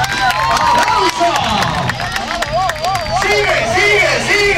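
Festive crowd at a Buenos Aires workers' day street show, clapping and cheering in a lively mass, with shouting voices and music-like tones running over the applause throughout.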